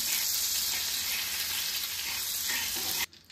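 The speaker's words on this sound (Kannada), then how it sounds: "ಎಣ್ಣೆ ಜೊತೆ ನಾನು ಬೆಣ್ಣೆನೇ ಹಾಕ್ತಾಯಿದ್ದೀನಿ" Butter and oil sizzle on a hot tawa in a loud, even hiss that carries on steadily before stopping abruptly near the end, with no talking.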